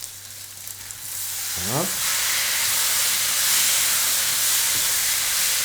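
Tomato dropped into a hot pan with spices for rougail saucisse, a loud wet sizzle that surges when it lands and holds as a steady frying hiss, with a brief spoken word early on.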